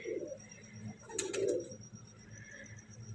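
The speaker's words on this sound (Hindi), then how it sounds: "ये जी कबूतर आ गया जी," A pigeon coos softly as it arrives at a pigeon keeper's loft, a brief low burble in the middle of the clip against quiet outdoor background.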